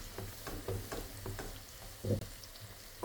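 Potatoes with crushed garlic, salt, black pepper and paprika sautéing in a buttered pan while being stirred, a soft steady sizzle broken by several scraping stir strokes, one louder near the end.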